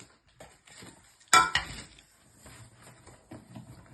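A 5-litre Bajaj pressure cooker being handled while unboxed gives a sudden loud metallic clatter and scrape, followed by softer rustling and light knocks as the pieces are moved about.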